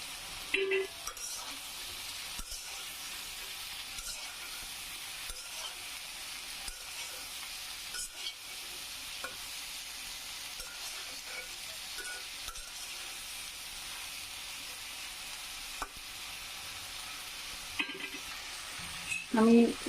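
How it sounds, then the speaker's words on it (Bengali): Okra stirred and fried in a pan with potatoes, a soft, steady sizzle with occasional spatula scrapes and clinks, quiet and continuous, a brief louder knock near the end. "আমি ঢ্যাঁড়সগুলো দিয়ে দিচ্ছি।"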